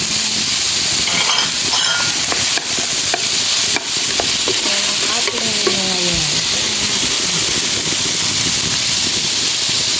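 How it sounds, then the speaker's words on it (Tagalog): Chicken pieces hit a hot pan and fry with a loud, continuous sizzle and hiss, broken by clattering stirs and scraping against the cookware. "Tapos, hulog na natin itong chicken."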